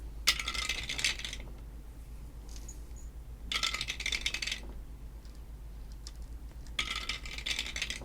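Dice tumble down a dice tower in three separate bursts of clattering and rattling, each about a second long, close and crisp over a low steady hum.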